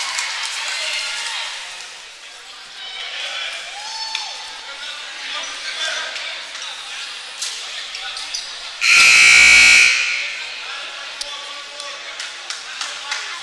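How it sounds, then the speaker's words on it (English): At a high school basketball game in a gym, a loud, flat electronic warning buzzer blares for about a second partway through. Before and after it come crowd murmur, shoe squeaks and an announcer's commentary. "That was the warning buzzer."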